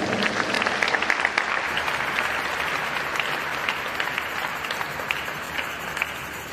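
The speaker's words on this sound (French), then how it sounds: "On acclame le Seigneur." A church congregation applauding to acclaim the Lord, steady dense clapping from many hands filling a large room, continuous and fairly loud throughout.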